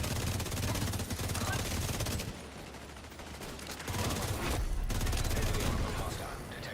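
Video game gunfire with shock ammo in The Division 2, rapid automatic bursts crackling loudly, pausing briefly in the middle before resuming, with game voices mixed in.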